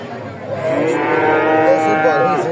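A cow at a rural livestock market gives one long, loud, close moo that swells and holds for about two seconds, with no talk over it.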